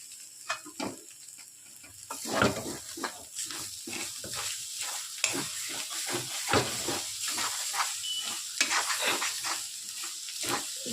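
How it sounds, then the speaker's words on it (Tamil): Prawns and scrambled egg stir-fried in a pan, giving a steady low sizzle broken by repeated scraping and clattering stirring strokes at a close distance, with no voices. "இப்போ நம்ம எடுத்து வச்சா எறாவையும் வறுத்து வச்ச எறாவையும் போட்டு நல்லா கிளறி விட்டுக்கணும்."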